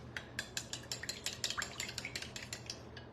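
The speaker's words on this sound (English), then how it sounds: "Mix up your egg, milk, oil, vanilla" Egg, milk, oil and vanilla whisked together in a bowl, a steady run of quick metallic clinks and taps from utensil against the bowl, close and fairly light, repeating through the whole stretch.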